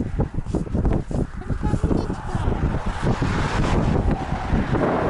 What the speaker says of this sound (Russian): Ветер дует, капец. Закрываю камеру от ветра.